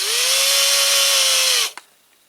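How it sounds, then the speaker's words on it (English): A power drill whines steadily at a constant pitch for under two seconds while drilling into a Corgi Massey Ferguson 65 model tractor, then stops abruptly with a small click. "I don't want to drill too far."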